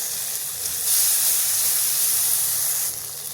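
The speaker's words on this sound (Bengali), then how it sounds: "কেটে রাখা টমেটো দেওয়ার পরে কিছুক্ষণ ভেজে নেব" Chopped tomatoes and spices frying in a pan, a steady close sizzling hiss that swells louder for a couple of seconds in the middle before easing back.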